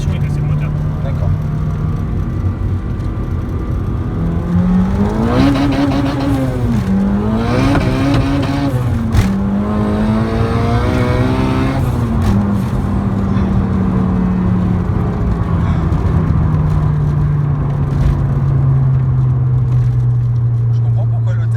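A turbocharged Honda Civic EK with a B16A2 engine making about 450 horsepower roars loudly from inside the car, climbing through several hard revving pulls before settling into a steady, droning cruise, with people talking over it.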